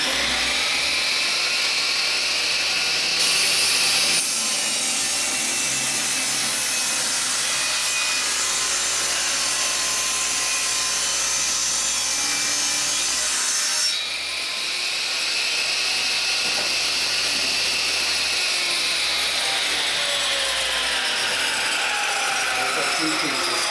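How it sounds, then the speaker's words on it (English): A power saw rips a 2x4 wooden board lengthwise into narrow strips 3/8 inch wide for building beehive frames, making a loud, sustained high whine and cutting roar throughout with no talk. "We'll go ahead and cut 2 of them."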